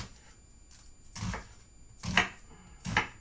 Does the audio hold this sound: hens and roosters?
no